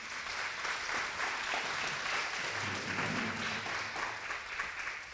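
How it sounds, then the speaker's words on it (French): Audience applause at a French conference day introduction, steady sustained clapping throughout from a room of listeners, moderately loud and continuous without speech over it. "On peut l'applaudir hein, quand même."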